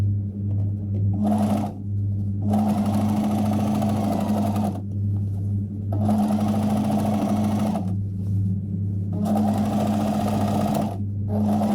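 A sewing machine stitches fabric for a messenger bag, its steady motor hum and needle chatter running in long stretches that stop and restart several times, loud and close.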